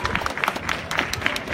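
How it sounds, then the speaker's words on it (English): Students at a school walkout rally protesting gun violence in Newport News, Virginia, break into a short burst of crowd clapping, with scattered sharp claps mixed with voices. "Yay, let's clap."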